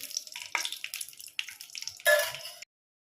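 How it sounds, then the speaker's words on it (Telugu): Cooking oil poured into a pan for a carrot and cabbage fry: a string of close, wet drips and small splashes, ending in a brief, louder pouring burst before silence. "ఆయిల్ వేసుకోవాలండి."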